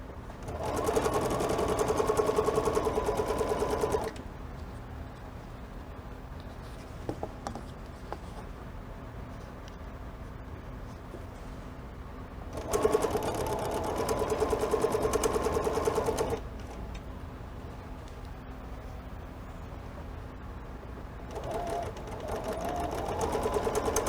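A sewing machine stitching 2.5 by 4.5 inch quilt units, running in two steady whirring bursts of a few seconds each, separated by quieter pauses with faint handling noise.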